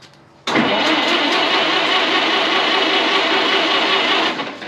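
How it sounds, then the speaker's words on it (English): A 1927 White dump truck, running for the first time in 20 years, cranked by its starter: after a quiet moment the engine suddenly catches into a loud, steady, close running roar that holds for several seconds before easing off. "We'll let that starter do it. We'll try it with the starter first."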